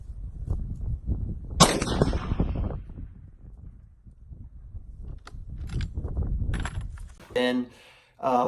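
A single sharp, loud rifle shot from a Remington 770 firing 140 grain ammunition, followed by a short echoing tail, with quieter handling noises and faint talk around it.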